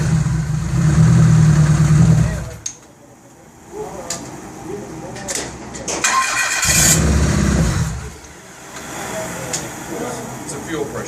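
A 1999 Dodge Stratus with a 2.4 L engine and a fuel pressure problem cranks and runs with a loud, close rumble, dips quieter for a few seconds, then revs up strongly again before settling.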